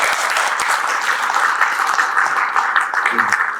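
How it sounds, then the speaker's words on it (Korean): Audience applause at a book launch concert for a children's book, steady dense clapping filling the room from start to finish, with a faint voice briefly audible near the end. "박수 한번 쳐주세요"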